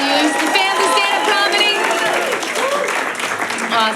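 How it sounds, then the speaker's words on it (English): Crowd at a stand-up comedy show in Portland clapping and cheering in dense, continuous applause that stays loud throughout, with voices mixed in among the noise. "Give it a round of applause."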